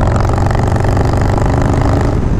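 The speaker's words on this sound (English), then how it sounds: "I kind of feel like my exhaust is even a little bit more growlier." Harley-Davidson motorcycle with a Stage 1 upgrade, its exhaust revving with a loud, deep, continuous growl recorded up close and without talk.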